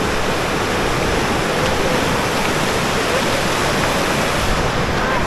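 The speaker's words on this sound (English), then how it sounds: "That river is really moving." A fast-moving river near Exit Glacier in Alaska rushes past in a loud, steady, unbroken wash of water noise that fills the whole moment.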